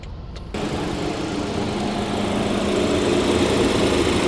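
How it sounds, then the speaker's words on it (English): A 2017 BMW X3 xDrive engine idles with a steady, loud, even rumble that starts abruptly and holds without change to the end. "Engine runs good."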